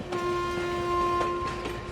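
Train running at night through rural countryside, a steady rolling rumble with sustained tonal hum and faint rhythmic clatter, used as a sound effect in a Bengali audio story.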